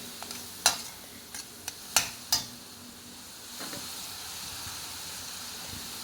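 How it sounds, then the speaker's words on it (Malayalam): Ginger fries in a pan for a Kerala fish curry with kudampuli, a quiet steady sizzle close by, broken by a few sharp clicks of stirring in the first few seconds. "അതിൻ്റെ പച്ചമണം മാറിക്കഴിയുമ്പോൾ നമുക്ക് ഇഞ്ചിയിട്ട് മൂപ്പിക്കാം."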